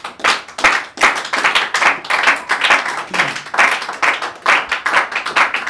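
A church congregation claps loudly and steadily together, close and dense, in a continuous rhythmic round of applause with no speech over it.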